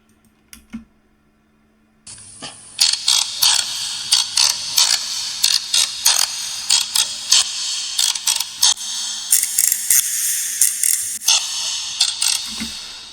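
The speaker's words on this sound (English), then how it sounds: "first I'm going to solo this and just see what it sounds like through the pitch shifter" Percussion tracked by striking and scraping a boxcutter, played back solo through a pitch shifter: a steady run of sharp clicky, ratcheting hits in an irregular rhythm, loud and close, after a brief quiet lead-in.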